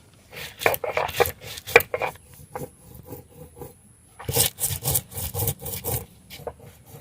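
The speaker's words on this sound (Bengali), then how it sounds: "এই লঙ্কা এসবগুলো সব ওই গুঁড়ো করে নিচ্ছি শিলে।" Dried red chillies and whole garam masala spices are crushed coarsely on a stone grinding slab in a village kitchen, with repeated rough scraping strokes in uneven bursts separated by short pauses, close and fairly loud.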